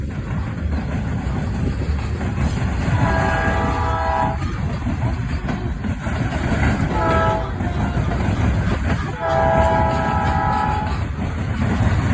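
A passing freight train led by two SD40-2 locomotives rumbles steadily as its horn sounds in three separate blasts, the last two long, over the continuous roll of the rail cars, in Fostoria, Ohio.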